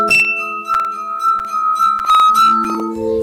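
Glasses holding different amounts of liquid, played by rubbing, give sustained ringing glass tones that shift from pitch to pitch in a simple melody, loud and close, with a few soft clinks.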